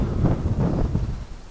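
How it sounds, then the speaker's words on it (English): Low, rumbling gusts buffet the microphone for a moment, a muffled roar of wind that fades toward the end. "it's a little windy"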